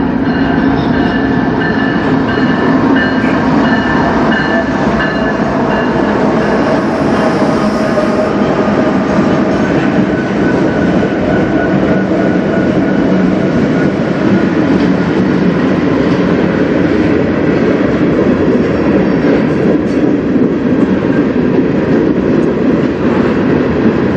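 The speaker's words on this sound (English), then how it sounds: "it was 4 locomotives, and for this year, that's super rare" A CN freight train pulled by four locomotives passes on the Strathroy Subdivision near Sarnia, Ontario, with a loud, steady roar of wheels and cars rolling close by, plus faint clickety-clack and no talking.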